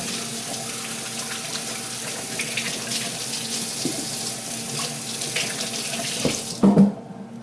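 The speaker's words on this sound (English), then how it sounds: "Wash my hands again and again." Hands washed under a running kitchen tap, a steady close splashing water stream lasting several seconds before a brief louder splash and the flow shutting off abruptly.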